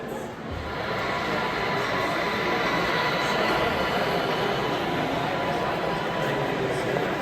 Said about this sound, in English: That's a long tanker train.